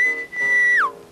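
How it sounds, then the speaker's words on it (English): A work whistle sounds knocking-off time in a cartoon: one loud, sustained steady tone that holds for most of a second, then slides down in pitch and cuts out, heard alone. "Ah, the whistle. Must be knocking off time."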